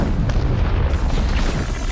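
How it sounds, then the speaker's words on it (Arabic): A loud, deep explosion booms through a movie action scene in which a facility collapses, its rumbling blast filling the full two seconds with no voices over it. "وفجأة انفجر المكان كله انفجار"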